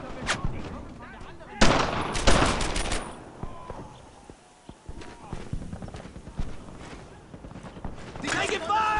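Gunfire in the World War II shooter Brothers in Arms: Earned in Blood, with bursts of rifle and machine-gun shots cracking in clusters among softer distant reports, while soldiers shout over the combat.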